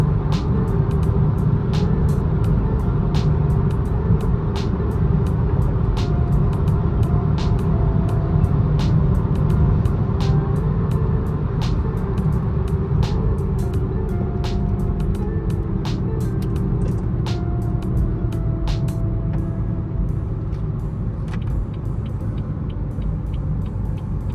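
A BMW 440i with the B58 engine driving, its engine and exhaust a steady loud low rumble from inside the car, with faint ticking clicks and no talking across the drive.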